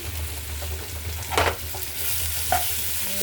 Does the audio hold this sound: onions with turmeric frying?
yes